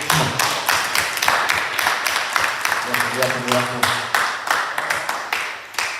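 A congregation at a Bible study claps steadily in rhythm to welcome people in, while a voice talks loudly over the clapping.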